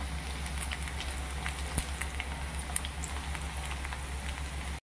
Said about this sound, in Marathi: बघा हे असे तळून घ्यायचे